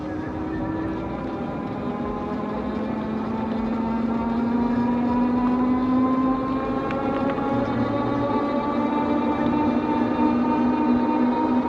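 A Yadea Trooper 01 moped-style eBike accelerates at full throttle in its highest speed mode, a steady motor whine rising slowly in pitch over continuous road and wind rumble, loud and sustained throughout.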